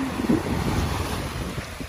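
Strong waves roll onto Manila Bay beach, a broad rushing wash mixed with heavy wind buffeting on the microphone, loud and continuous.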